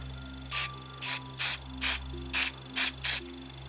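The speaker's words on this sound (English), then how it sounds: "give it a very, very light dab spray like that." Light dabs of spray paint are misted onto a model wargame fence: about eight short, even hissing bursts at a regular rhythm, close up with no talking.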